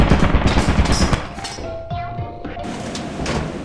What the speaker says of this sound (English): Yo, there's a turret! There's a turret!